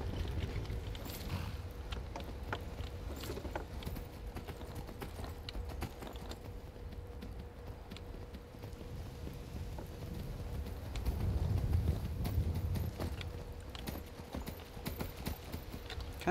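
Horse hoofbeats in the video game Skyrim, a steady clip-clop of hooves that continues throughout at moderate loudness, with faint rain-like patter behind.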